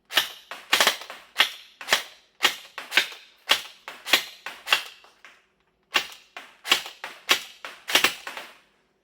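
HLF ARP9 CQB gel blaster firing on semi-auto indoors: roughly twenty crisp, snappy shots in quick, uneven succession with a brief pause midway, close and loud with no talk.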